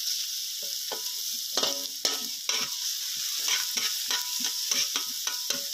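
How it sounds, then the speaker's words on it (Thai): Carrots stir-fried in a pan for garlic fried rice, steady hissing sizzle with repeated scraping strokes of a spatula at an irregular quick rhythm, close and clear, no voices. "หลังจากนั้นก็ใส่แครอทลงไปนะครับแครอทจะสุกยากหน่อยนะครับก็ผัดไปเรื่อยๆนะครับ"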